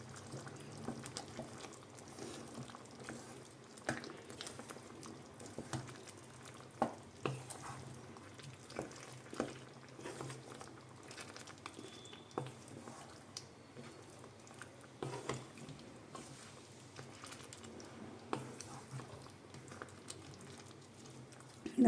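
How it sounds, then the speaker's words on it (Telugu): Masala paste for chicken ghee roast fries in a pan, with a steady low sizzle broken by irregular stirring scrapes and soft wet squishes throughout, close and moderately quiet, with no talking. "ఇదంతా బాగా ఫ్రై అయ్యే వరకు దీన్ని ఫ్రై చేసుకోవాలన్నమాట."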